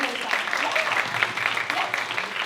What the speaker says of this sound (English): So give a big applause to Mito-san.